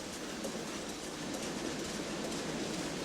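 Leavers lace machine at work making Calais lace, its bars stamping to push thousands of carriages, a dense, steady mechanical clatter that runs continuously and loudly throughout with no voices.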